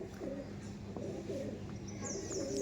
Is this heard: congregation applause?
no